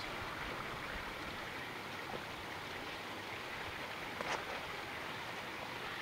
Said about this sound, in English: Now that's a nice water feature.